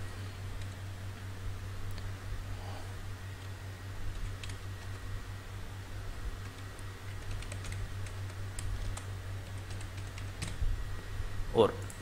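Quiet clicks of typing on a computer keyboard while a user ID and password go in for an online bank login. The taps are faint and scattered over a low, steady hum in a quiet room.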